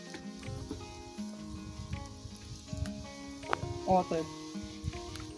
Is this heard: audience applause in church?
no